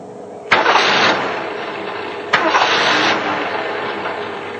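A car engine falters on a television drama soundtrack, with two sharp onsets each followed by a loud, rough engine roar that fades and weakens, heard close with no voices over it.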